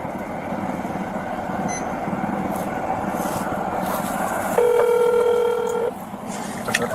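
A phone being dialed during a police traffic stop, with a steady tone sounding for over a second above a loud background rumble like passing traffic.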